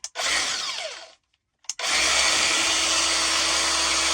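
Makita LXT cordless metal shears switching on, a brief burst of high whirring motor noise that cuts off, then after a pause restarts and runs steadily and loudly, close by with no talk.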